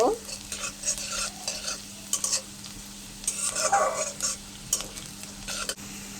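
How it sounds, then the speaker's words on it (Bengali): Chopped onion frying in oil with black cumin and cumin seeds, stirred in a pan for spicy potato laddu: a steady close sizzle under repeated scraping stirs, with no talk. "পেঁয়াজটা তেলের সাথে মশলার সাথে কিছুক্ষণ নাড়াচাড়া করে নিব"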